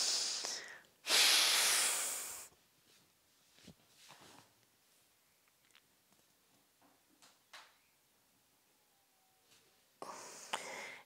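A deep, loud inhalation through the nose during a morning yoga breathing exercise, followed by quiet with faint rustles, then another breath near the end.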